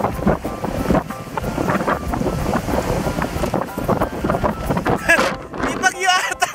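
Strong wind roars and buffets against the microphone in loud, continuous gusts at Gulugod Baboy mountain peak in Batangas, with a voice briefly audible through the noise.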